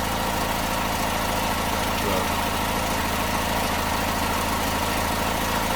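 A Datsun car engine idles on choke, a steady, even mid-to-low running drone with constant vibration throughout, close and uninterrupted.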